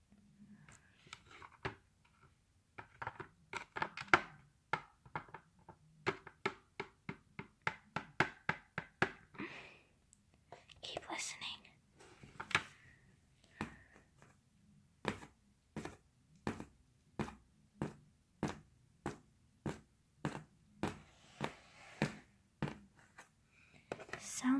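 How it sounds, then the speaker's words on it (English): Rhythmic hoof-like clops of a trotting pony, a long series of sharp evenly spaced knocks that speed up and slow down, fairly close and dry, with soft voices talking in places. "Sounds like trotting to me, like a pony running."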